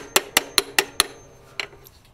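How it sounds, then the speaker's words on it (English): Five quick, evenly spaced metallic taps of a hammer on a car's EGR valve, then a pause and one or two lighter taps, close and crisp with no talking. "Give it a few taps with a hammer."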